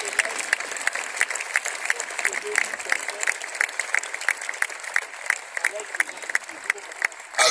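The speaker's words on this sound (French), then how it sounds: "Acclame très fort pour le Seigneur" Church congregation clapping steadily and loudly throughout, a dense wash of many hands with sharp individual claps standing out, likely with some voices mixed in.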